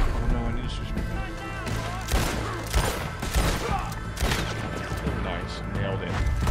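Gunfire in the video game Red Dead Redemption 2, with dense loud bursts of shots and impacts layered over game sound and a continuous rumbling mix, close and busy throughout.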